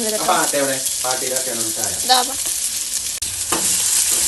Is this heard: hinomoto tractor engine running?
no